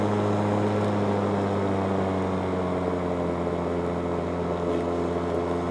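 A Ryobi 21-inch 40V brushless cordless lawn mower runs in standard mode, giving a steady, continuous motor and blade hum at close range that stays even throughout with no talking.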